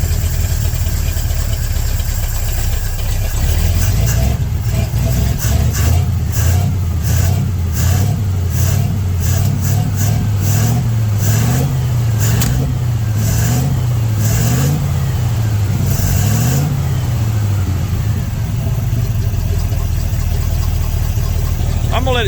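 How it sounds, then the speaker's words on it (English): A 1967 Chevrolet C50 truck engine fires and runs close by, settling into a rough idle with several revving swells in the middle before easing back to a steady rumble. "It should stay running."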